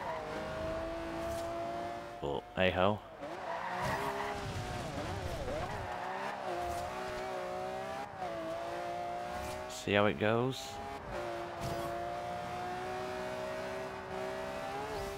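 A modified race car in Forza Horizon 2, its engine droning and shifting pitch steadily, with two short bursts of tyre skidding, while someone talks over it.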